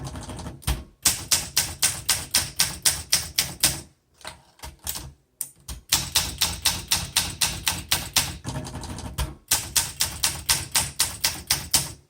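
Rapid typing on a 1967 Olympia SM8 manual typewriter, with dense runs of crisp key strikes in several bursts, separated by brief pauses and what sounds like a carriage return, close and alone.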